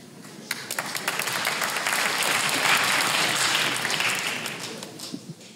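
Crowd applause in a large 1,800-seat hall during a French comedy podcast taping starts with a few sharp claps, swells into a broad wash of clapping, then tapers off.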